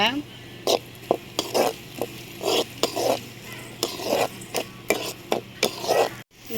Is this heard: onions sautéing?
yes